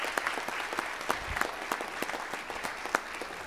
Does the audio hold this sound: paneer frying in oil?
no